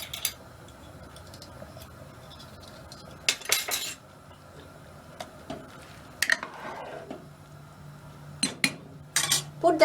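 A metal spoon clinks and scrapes against a pot of boiling tin fish curry with potato and eggplant, sharp intermittent taps in short bursts over a quiet simmering background.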